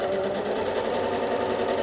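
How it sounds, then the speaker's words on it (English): A sewing machine runs steadily while free-motion quilting, its needle chattering in a fast, continuous, even rhythm close up, with no pauses. "So let's stitch another one."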